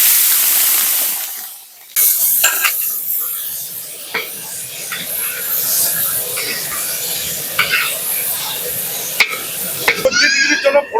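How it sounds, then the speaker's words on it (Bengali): Prawns fry in hot mustard oil in a kadai, a close, busy sizzle with spitting crackles and stirring scrapes after a brief initial hiss and pause. "এবার চিংড়ি মাছগুলো ভেজে নেবো।"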